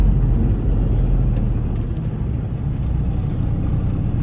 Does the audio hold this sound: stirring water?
no